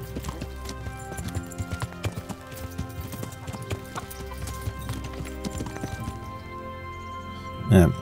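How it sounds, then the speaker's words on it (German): Steady rhythmic horse hoofbeats clip-clop along while riding in the video game Kingdom Come Deliverance, with someone speaking German over them and a brief horse whinny near the end. "So, nun denn, dann reiten wir geschwind."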